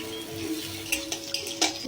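Metal utensil scraping and clinking in a pan in a few sharp taps, with a faint sizzle underneath as green chilies fry briefly.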